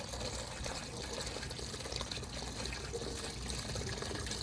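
Rinse water drains from the pulled radiator drain plug of a Dodge WC51 Weapon Carrier, a steady close trickle and splash that runs unbroken throughout.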